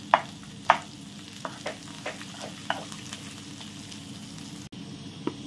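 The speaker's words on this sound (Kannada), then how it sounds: "ಸ್ಲೋ ಫ್ಲೇಮಲ್ಲಿ ಇದನ್ನು ಫ್ರೈ ಮಾಡಿಕೊಳ್ಳಿ." Garlic and large onion frying together in oil over a slow flame, with a steady low sizzle and a few sharp stirring clinks and scrapes against the pan.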